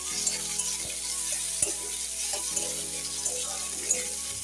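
Ginger dropped into hot oil with whole garam masala spices for a vegetarian potol and moong dal dish, giving a steady close sizzle with faint scattered clinks and stirring scrapes, no talk.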